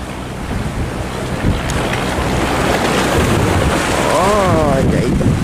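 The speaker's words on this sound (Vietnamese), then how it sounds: "Vậy là các bạn cũng đủ hiểu con sóng lớn như thế nào rồi đó." Large sea waves surge and crash near a harbour breakwater at Lagi port, a continuous loud roar of surf mixed with heavy wind buffeting the microphone, with a brief whistling tone near the end.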